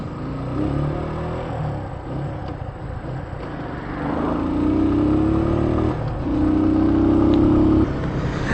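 A Keeway Cafe Racer 152 motorcycle engine runs steadily up close, its rumble rising into two sustained revs with a rough, buzzing vibration and no talking.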